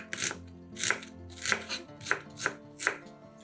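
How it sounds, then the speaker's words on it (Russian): Knife chopping an onion into half rings on a board, five or six crisp, close cuts spaced about half a second apart, quiet and alone. "Одну луковицу нарезаем полукольцами."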